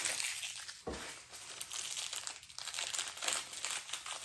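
A plastic bag holding desiccant pouches, packed with a Bambu Lab P1S 3D printer, crinkles steadily as it is torn open, with a sharper rip near the start, close and alone without any voices.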